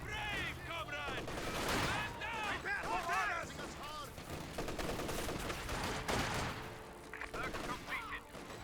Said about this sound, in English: this barrage coming on in